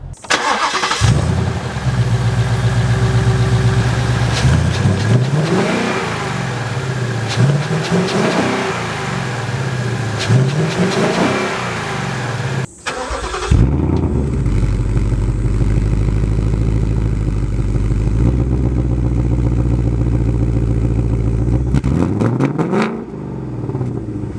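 A Ford Mustang GT's naturally aspirated 5.0L V8 cranks and starts, then revs hard in repeated loud surges, settles briefly, and roars through more revs close up.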